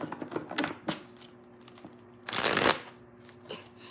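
Tarot cards being shuffled by hand, a few quick riffles and taps followed by one longer crisp ruffle, close and fairly loud with no talking.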